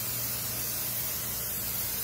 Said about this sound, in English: I'm gonna spray it down with some olive oil.